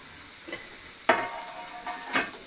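Onion frying in oil in a pan, a steady sizzle with a few louder stirring scrapes and clatters spaced through it, close and fairly quiet, no voices.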